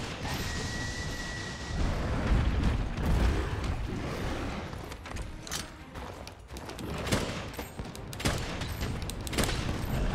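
Rapid repeated bursts from a heavy bowgun firing flaming ammo in Monster Hunter World, a steady rattle of in-game shots and mechanical clatter over battle ambience, fairly loud and continuous without speech.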